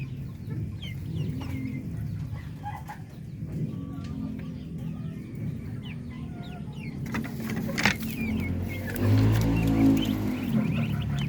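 Chickens cluck and chatter in their pens alongside ducks, a busy flock of overlapping calls at middle distance, with louder handling noise and a low rumble toward the end.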